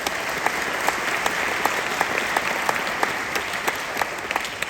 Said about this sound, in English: So let's give a round of applause for Patrick.